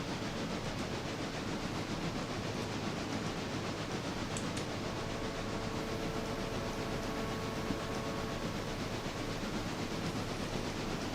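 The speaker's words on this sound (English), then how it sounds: "You'll just have to have random train noises in the background." A train rumbles along steadily in the railroad video game Railroader, a faint, constant low roar with soft mechanical clatter and a few light squeals, and no one speaking.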